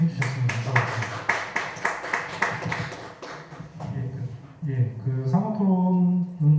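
A short burst of clapping from a small audience at a panel discussion on electoral reform, fading out as a voice begins speaking.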